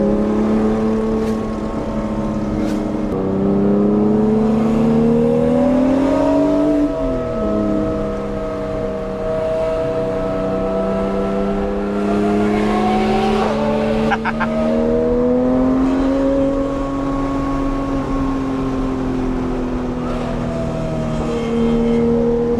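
A Porsche 991.2 GT3 with a manual gearbox drives under load, its engine drone rising and falling through shifts, loud and close inside the cabin, with faint talk at times.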